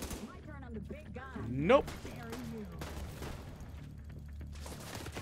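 Gunfire bursts and grenade blasts from The Division 2 video game, with a heavy boom near the middle over steady background rumble, while someone speaks briefly over the combat.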